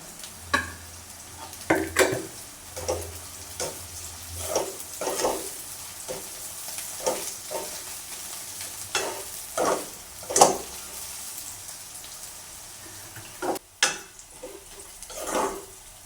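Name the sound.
sautéing green chillies in a pan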